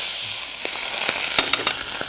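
Bacon grease and butter sizzling in a pan for chicken fried steak, a constant hiss that closes with three quick clinks of a utensil.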